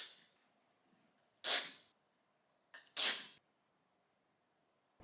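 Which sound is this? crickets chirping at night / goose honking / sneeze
sneeze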